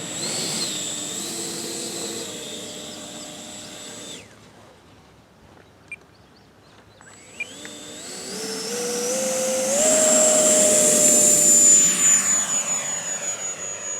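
An E-flite Viper RC jet taxiing on grass, its electric ducted fan whining steadily loud, dropping away briefly, then spooling back up to a rising, high-pitched roar as it throttles up.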